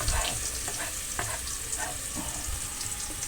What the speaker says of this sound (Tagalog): Lagay po natin ang ating bawang, sibuyas at luya.